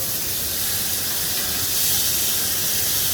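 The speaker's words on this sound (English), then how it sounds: "So I'm going to flip the steak over." Sirloin steak searing in a hot pan, a loud, steady broadband hiss and sizzle that holds evenly throughout with no voices.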